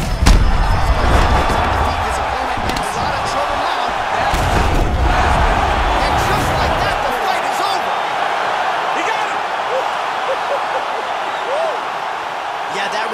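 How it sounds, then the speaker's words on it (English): Crowd roaring after a knockout at a UFC fight, a loud dense wash of cheering and shouting that swells strongly in the first seconds, then thins to a steadier, quieter arena roar. "Crowd absolutely loving it."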